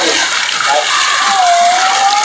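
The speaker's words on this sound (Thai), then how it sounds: "มีน้ำตก" Outdoor waterfall in hot sunny weather, a loud continuous rushing hiss of falling water filling the scene without pause, with a faint tonal sound drifting through partway.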